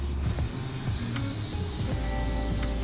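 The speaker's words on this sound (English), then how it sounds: "Probably gonna spray more and go over it with a brush." Hairspray misted onto styled hair from an aerosol can, a series of short close hissing bursts with quiet handling noises between them.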